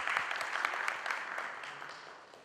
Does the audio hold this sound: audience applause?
yes